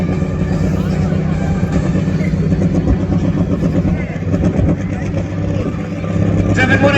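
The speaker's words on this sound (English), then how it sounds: "wait till you hear this thing go then." Pulling tractor at a tractor pull event in Brechin, Scotland, its big engine rumbling loud and near with revs being fed in and swelling, while an announcer talks over it through a PA.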